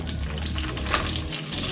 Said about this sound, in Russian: Чуть обжариваем.